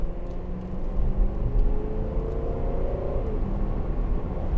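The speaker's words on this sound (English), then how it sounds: "and that awesome sounding engine." A 2012 Range Rover TD V8 Westminster diesel heard from inside while driving, a deep steady rumbling engine note with a slight rise in revs midway, continuous whir and road noise, no talking.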